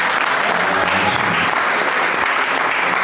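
Church congregation applauding and cheering together, a dense, steady wash of clapping filling the space from start to finish, with scattered voices mixed into the crowd noise.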